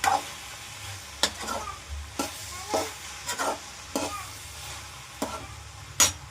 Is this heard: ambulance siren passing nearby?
no